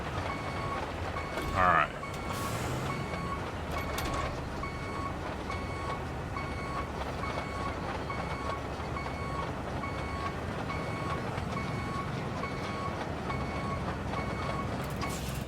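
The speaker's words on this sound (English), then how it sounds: "Thought that beeping would never end." Vehicle reversing alarm in the road-building video game Roadcraft, a steady run of evenly spaced electronic beeps repeating the whole time over low machinery rumble, with a brief spoken remark near the start.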